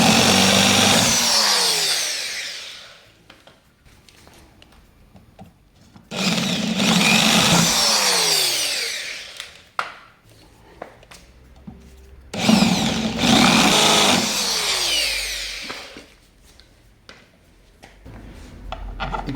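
Power drill boring a pilot hole for a screw into wooden stool seat, three loud whining bursts of several seconds each, separated by short pauses with faint handling clicks.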